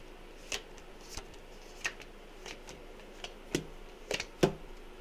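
Playing cards being shuffled, a series of soft, irregular riffling snaps and taps, fairly close and quiet with no talking.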